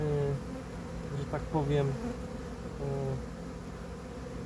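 A honeybee swarm hums in a steady, close drone of many wings, with a few louder passing buzzes of individual bees and someone speaking softly over it.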